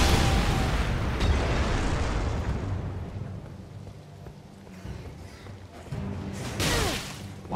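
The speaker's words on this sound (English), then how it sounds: "Look at this explosion" Explosion in the video game Elden Ring: a loud, sustained rumbling blast with crackling bursts that stays dense throughout, with a fresh surge of booming near the end.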